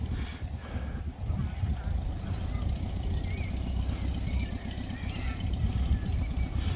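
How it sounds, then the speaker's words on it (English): A Ford Model T at a vintage vehicle rally pulls away, its engine and exhaust making a low, steady chugging rumble heard from behind, moderately faint against outdoor background noise. "you heard a wee bit of the engine and the exhaust. Here when the Model T Ford's moving"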